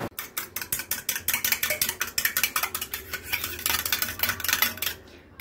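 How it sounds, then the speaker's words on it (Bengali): Eggs are beaten for an omelette, a fast, regular run of loud close clicks and taps as a utensil whisks against the bowl, easing off at the end. "এই ডিমটা আমি ফাটিয়ে নিচ্ছি।"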